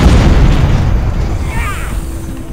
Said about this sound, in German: Los, sprengen wir das Ding in die Luft